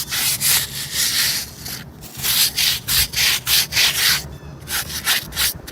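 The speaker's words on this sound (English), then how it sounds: "Let me give this one more scrub." Scrub brush rubbing over a veteran's headstone at Lakeview Cemetery, heard as close, steady back-and-forth strokes in quick rhythmic bursts with brief pauses between them.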